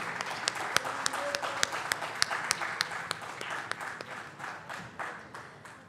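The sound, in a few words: audience applause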